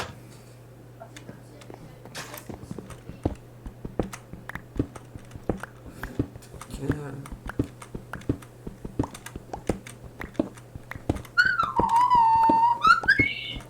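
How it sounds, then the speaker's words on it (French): Someone whistles a short wavering tune near the end, over steady ticking and tapping in a Minecraft survival game session, moderately loud against a low constant hum. "Ça fait mal aux oreilles quand tu siffles, monsieur."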